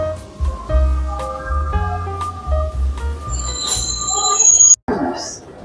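Rumbling metro train in Passy station on the Paris Metro, with screeching wheel squeals and a high tonal whine, steady and fairly loud, with people talking faintly in the background.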